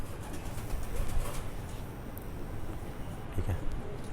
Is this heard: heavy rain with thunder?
no